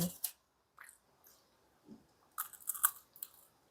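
Someone bites and chews a hard sugar-coated pastry up close, giving crisp crunches and wet chewing in irregular bursts with soft pauses between.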